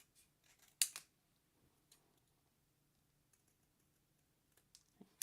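Scissors trimming paper freehand for a handmade Halloween card: a couple of crisp snips near the start, then sparse soft clicks and handling noises in a quiet room.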